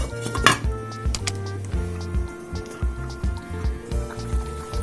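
A metal lid clatters back onto a pot of simmering homemade meatballs, with a bright clink followed by light rattling and bubbling from the cooking.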